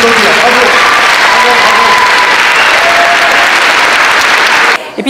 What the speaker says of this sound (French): vous pouvez vous applaudir, bravo.